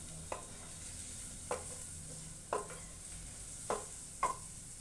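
Red chili and coriander powder are stirred into turnip curry in a pan, giving a quiet low sizzle broken by about five separate scrapes of a spoon against the pan, spaced roughly a second apart.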